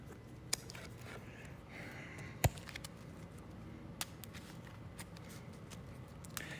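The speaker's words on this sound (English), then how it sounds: "Gotta shuffle again." Cards for the Stars of Akarios board game being shuffled, a quiet low rustle with a few sharp riffling snaps and taps scattered through, close and alone with no talk.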